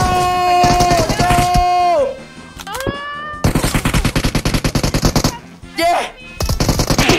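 Rapid automatic gunfire sprays in a shooter video game, loud and close in bursts, broken up by a short yelled word and excited players talking over the shots.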